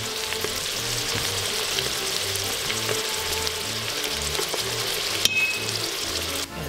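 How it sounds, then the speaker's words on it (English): Fat and flour cook together as a roux in a pan for homemade stroganoff, giving a steady close sizzle and frying hiss throughout with faint stirring scrapes and a brief clatter near the end. "The roux is nothing but fat and flour cooked together"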